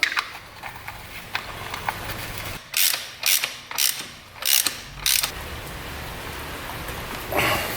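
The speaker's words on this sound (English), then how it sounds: "Tighten these bolts back down." A ratchet wrench tightening motorcycle bolts, giving several quick bursts of close, sharp ratcheting clicks separated by short pauses over a faint background hiss.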